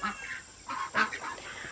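Young Muscovy ducks on a homestead give short honking calls, a few nasal squawks close by over a steady high background hiss.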